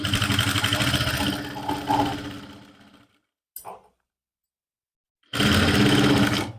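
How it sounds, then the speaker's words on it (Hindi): A sewing machine stitches a lined suit along a marked line in two loud, close bursts of whirring with a silent pause between them and a brief click in the gap. "अब इसी निशान के ऊपर से हम सिलाई लगाएंगे"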